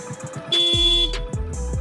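A loud car horn blares in a long honk, then two shorter beeps follow, close by, over faint rumbling traffic.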